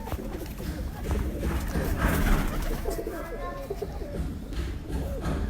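Taddy pigeons cooing in a loft, soft repeated throaty coos mixed with background chatter and loud ambient noise, while people talk over the birds throughout.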